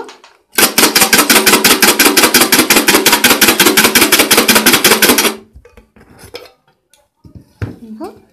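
Roasted black chickpeas rattle inside a covered pan as it is shaken hard, a loud, fast, even rattle lasting about five seconds, then stopping abruptly, followed by a few faint clinks.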